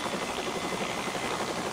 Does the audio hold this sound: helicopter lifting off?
yes